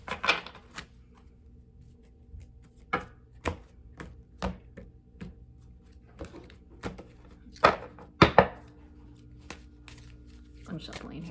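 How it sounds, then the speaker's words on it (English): Tarot cards being shuffled by hand, giving irregular sharp slaps and riffles one after another, close and fairly loud in a quiet room. "I'm shuffling here."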